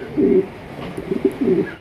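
Racing pigeons coo nearby in a loft, giving two or three low, throaty rolling calls that swell and fade in quick succession, loud and close with no talking.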